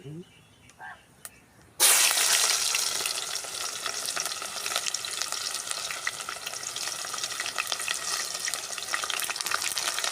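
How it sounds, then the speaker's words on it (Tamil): Onions hit hot oil in a village kitchen while a banana and pea kurma is cooked: a quiet opening gives way to a sudden loud burst of sizzling that stays dense and crackling throughout. "வெங்காயத்தை போட்டுருவோம்."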